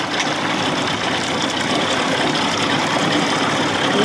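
A 1979 Evinrude 55 hp outboard motor runs in reverse, giving a steady, close, fairly loud engine drone with a broad noisy texture and no speech.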